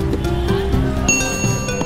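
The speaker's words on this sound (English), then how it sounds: "The sound of the bell served as a cue for vendors to wash their hands." Bicycle bell ringing as a hand-washing cue for street food vendors at a food stall, bright metallic rings repeating over a busy background with music-like tones.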